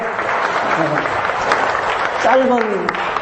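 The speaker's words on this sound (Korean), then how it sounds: "우리의 감사의 고백을 받으신 하나님께 영광의 박수를 올려드리십니다" A church congregation claps together in praise of God, a dense steady wash of applause filling the room, with voices rising over it near the end.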